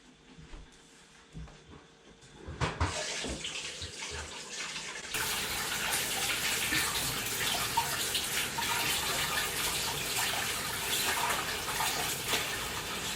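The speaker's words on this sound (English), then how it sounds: "get my hands washed" Hands are washed under a running tap in a bakery kitchen, with quiet splashes first and then a loud, steady gush of water that continues to the end, with no talk.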